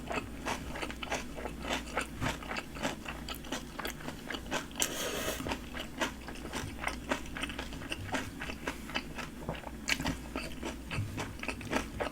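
Someone bites and chews a very spicy dumpling topped with kimchi, with a run of close, rhythmic crunchy chews repeating steadily and no talking.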